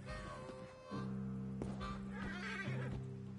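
A horse neighs in Red Dead Redemption 2, a loud drawn-out whinny with wavering pitch, heard close alongside game sounds and faint hoof noises.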